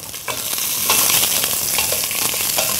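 Onions frying in a pan as the first step for rice, a loud, dense, continuous sizzle with crackling bursts and light scraping throughout.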